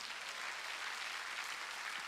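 Congregation applause during a Korean church sermon, a steady wash of clapping heard faint and distant, even and unbroken for about two seconds.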